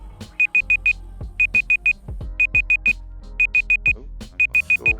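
A timer alarm goes off in loud, close bursts of four rapid high beeps, each group repeating about once a second, with a few dull low thuds between them.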